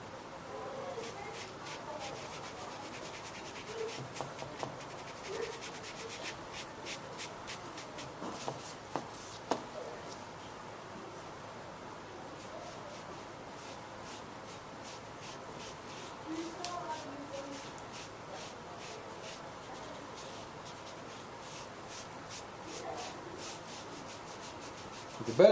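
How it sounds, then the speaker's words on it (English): Steady dry rubbing of sandpaper on the wooden cabinet of a passive amplifier being prepared for stain, a soft continuous scratchy texture with small irregular bumps, fairly quiet and close. "The better job you use sanding, the better the stain is going to take into the wood."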